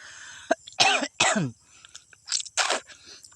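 Several harsh coughs and throat-clearing bursts in quick succession, close and loud, with short quiet gaps between them.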